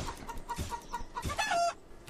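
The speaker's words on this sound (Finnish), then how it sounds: "Se on kana!" A chicken in the Bear Simulator video game clucks in a steady run of short notes, rising into a longer squawk near the end, fairly close with no talk over it.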